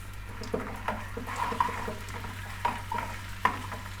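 Oil sizzles steadily as salted onions fry in a pan, with occasional sharp clicks and scraping stirs cutting through the continuous crackle.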